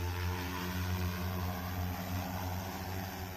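An XAG agricultural drone in flight gives a steady, even propeller drone with a constant hum throughout, fairly close and moderately loud, no voices.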